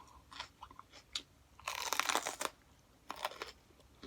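Crunchy bites and wet chewing on a hot pepper, close and loud, with bursts of crisp crunching between quieter mouth sounds and no talking.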